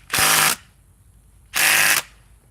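A DeWalt power tool runs in reverse in two short bursts of about a third of a second each, a loud buzzing whir separated by a pause of about a second, with no talk.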